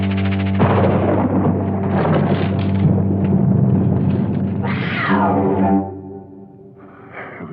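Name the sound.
cat meowing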